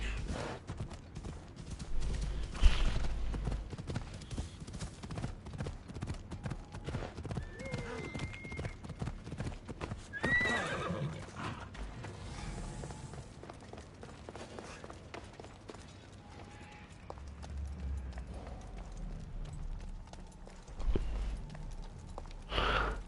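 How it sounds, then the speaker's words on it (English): A horse gallops in Assassin's Creed Odyssey, a steady clip-clop of hooves running beneath game ambience, with a whinny, breathy character sounds and occasional speech scattered throughout at moderate, fairly quiet levels. "And a horse always runs through."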